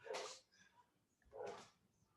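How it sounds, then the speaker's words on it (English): A dog barking at the mailman indoors, two muffled, fairly faint barks about a second apart with quiet in between. "Mailman's here. Dog wants to kill."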